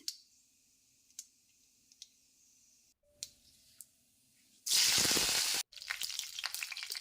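Mustard seeds crackle with sparse, sharp pops in hot oil before curry leaves hit the pan, setting off a loud burst of sizzling that drops back to a steady, busy fry.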